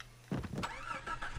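A car engine in the video game Far Cry 3 cranks and catches after a quiet moment, then revs unevenly at a moderate level with a rising mechanical whine.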